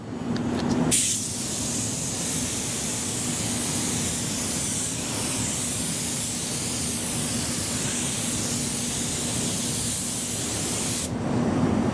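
Spray gun laying a second back-to-back coat of BASF car paint on a C10 truck project in a training booth: a loud, continuous broadband hiss of atomized spray that starts abruptly and runs steadily for about ten seconds before cutting off.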